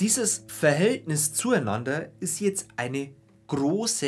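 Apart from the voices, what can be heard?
No distinct noise like a dog, phone or traffic.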